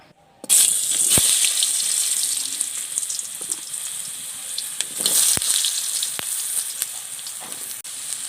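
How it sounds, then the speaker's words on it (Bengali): Potatoes frying in hot oil in a heated kadai over a stove, a loud close sizzle that bursts up as they go in and then crackles steadily, with occasional clinks of utensils. "এবার আমি আলুটা ভেজে নেব"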